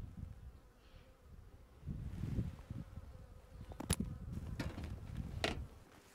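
A close swarm of honeybees buzzes steadily around a hive during a spring inspection, with a low, even hum and a few louder passes and faint rustles.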